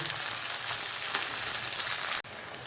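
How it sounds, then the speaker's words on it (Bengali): Chopped onion browning in hot oil with cumin and whole spices, a constant close hissing sizzle that cuts off abruptly near the end before resuming more quietly. "এই পেঁয়াজ কুচিটা একটু লাল লাল করে ভাজবো"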